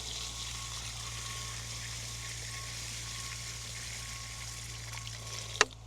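Water from a 5-gallon container pours into a planting hole in the ground, a steady low gushing and hissing flow, fairly faint, ending with a brief knock.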